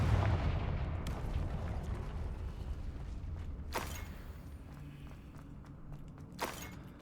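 Confringo blasting spell cast in the video game Hogwarts Legacy, heard as two sharp fiery bursts a few seconds apart over a dense rumbling game ambience, with no talking.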